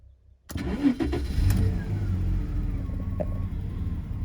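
A Jaguar XJ40 engine with a slight misfire cranks briefly, catches and settles into a steady, close-up running sound after a quiet start.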